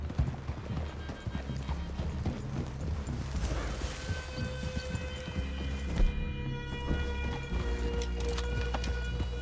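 Steady clip-clop of horse hooves at a walking pace throughout, with a faint snort or whinny and a low background hum, in Red Dead Redemption 2.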